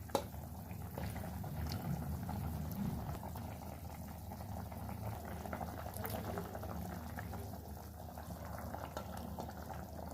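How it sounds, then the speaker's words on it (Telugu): Andhra-style tamarind fish curry broth with radish and okra boils in a pot, a steady low bubbling simmer that runs evenly throughout, fairly quiet and close, with no talk. "మరిపోయినండి, చూసారా మరిగేస్తుంది పులుసు"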